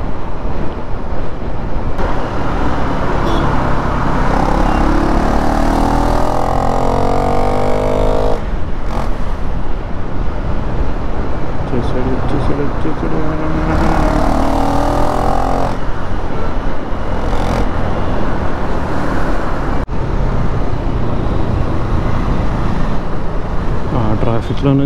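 Loud road traffic and roaring wind rush heard from a KTM Duke 390 motorcycle threading through traffic, with engine drone swelling and dropping over the continuous buffeting noise.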